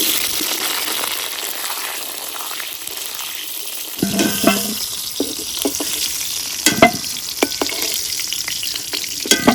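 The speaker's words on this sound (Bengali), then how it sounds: "আলু ভেজে নিচ্ছি" Potatoes frying in a pan for a homemade country-chicken biryani, a steady close sizzle with occasional stirring scrapes and clatter in the second half, no talk.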